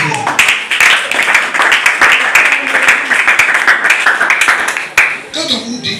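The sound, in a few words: congregation applauding the Lord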